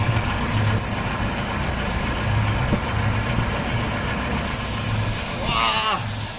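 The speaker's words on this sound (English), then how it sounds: "40-year-old car idling like this" A 40-year-old Toyota Celica engine idles with a low, uneven rumble and steady throb, heard close up; a brief hiss and squeal rise near the end.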